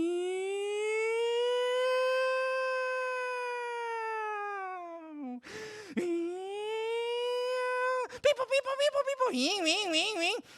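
A person imitates a fire truck siren vocally, holding a long, steady wail, then a short break, a second wail and a quick warbling yelp at the end, loud and close.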